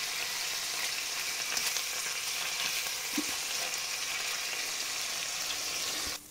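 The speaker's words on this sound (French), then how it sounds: "On va la faire colorer de tous les côtés." Beef pieces browning in a hot pan for bœuf bourguignon give off a steady, dense sizzle that carries on without pause, then cuts off abruptly just before the end; no one speaks.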